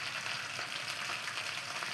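Ginger garlic paste fries on a clay stove, a dense, even sizzle that holds steady and close for a brief moment, with no voices.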